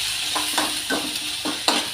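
Green chilli paste fries in a pan with a close, steady sizzle, broken by about five rhythmic scraping stirs.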